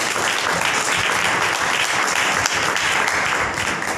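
A worship congregation applauds loudly and steadily, a dense continuous wash of many hands clapping together from start to finish, with no speech over it.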